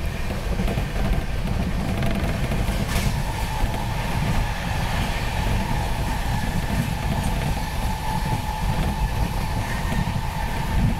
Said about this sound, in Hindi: फ़िरोज़ाबाद में फाइनली ट्रेन नंबर 20802 नई दिल्ली इस्लामपुर को ओवरटेक कर रहे हैं